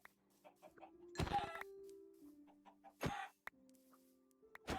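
Chickens cluck in short bursts nearby, with a couple of loud thumps and steady background hum between the calls.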